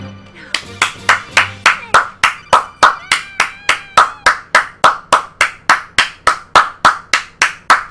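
A single person claps hands in a steady, even rhythm, about three sharp claps per second, close and loud, mocking the applause of a studio audience after faint talk at the start.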